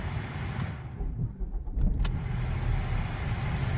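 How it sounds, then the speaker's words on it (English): Ford Focus engine cranking and catching, then settling into a steady idle, heard up close and fairly quiet with no voices. "And you're gonna start the vehicle."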